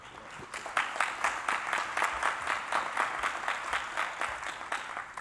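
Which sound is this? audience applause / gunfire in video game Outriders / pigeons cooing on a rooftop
audience applause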